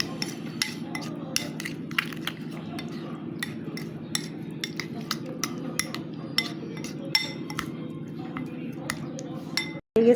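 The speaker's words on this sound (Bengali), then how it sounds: "এখন আমি মাংসটাকে ভালোভাবে মাখিয়ে নিচ্ছি" A utensil clinks and taps against a bowl as marinated chicken, coated with tomato sauce and chili sauce for chow mein, is mixed; the sharp metallic knocks come irregularly over a low steady background hum.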